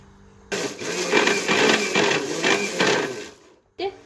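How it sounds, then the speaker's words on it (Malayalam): A mixer grinder blending spices whirs loudly in short pulsing bursts, stops, then gives one more brief run. "നമുക്ക് മിക്സിയിൽ അടിച്ചെടുക്കാം."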